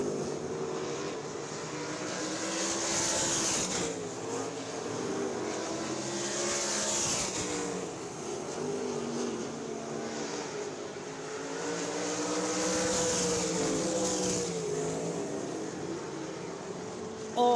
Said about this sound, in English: Michael Walter will take home heat race number 2 for the United Race Club 360 Sprint Cars.